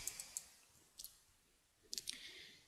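A computer mouse clicks several times, quiet sharp clicks in a few quick clusters against a faint room background.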